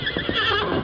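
A stallion neighs in an old Western radio drama, a short, close whinny about a second long, heard alone without speech.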